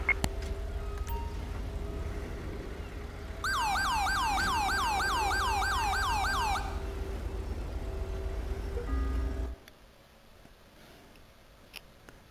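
An ambulance siren wails in Grand Theft Auto V during a port authority police patrol, a rapid rising yelp cycling for about three seconds over a steady engine drone that cuts off near the end.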